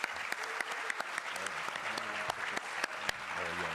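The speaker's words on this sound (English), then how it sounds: "Please give them a round of applause." A graduation audience at a cybersecurity and cyberintelligence ceremony claps in a fairly quiet, spread-out round of applause, with individual sharp claps standing out from a soft background of hands and a low hum of voices.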